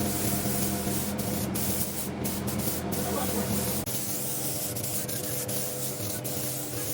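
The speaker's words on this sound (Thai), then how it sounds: "แล้วก็พ่นสีอีกรอบนึงครับ" An automotive spray gun applies paint to a car in a repair shop, giving a continuous close, loud hiss with a few brief sharper bursts and a slight drop partway through.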